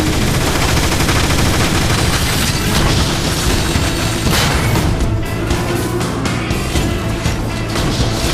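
Sustained gunfire and booming blasts in the video game Transformers: War for Cybertron, a dense, loud, unbroken barrage of rapid shots and explosions with no pauses.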